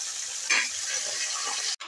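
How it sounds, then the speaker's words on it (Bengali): Singhi fish shallow-frying in a little oil in an iron kadai, giving a steady, close broadband sizzle that swells briefly near the start of the second half and cuts out sharply just before the end. "অল্প তেলে মাছগুলো সুন্দর ভাজা হয়ে যায়।"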